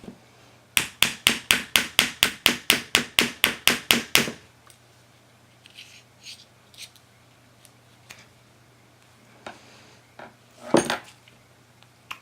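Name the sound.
punch hammer tapping out a pin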